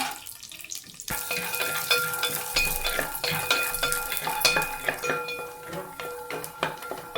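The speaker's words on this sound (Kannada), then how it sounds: "ಅವಲಕ್ಕಿ ಸ್ವಲ್ಪ ಮೆದು ಆಗಲಿ ಅಂತ ಕಡಲೆ ಬೀಜ ಹಾಕ್ತಾಯಿದ್ದೀನಿ." Peanuts sizzle and crackle in a hot pan for poha upma, with close frying noise, scattered clinks of a spoon stirring, and a sudden start after a quiet second.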